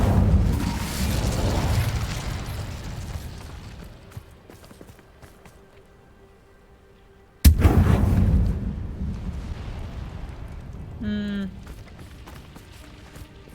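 A burst of Incendio fire-spell magic in the video game Hogwarts Legacy erupts loudly, roars and fades, and then a second sharp blast flares and dies away, followed by a short bright chiming effect.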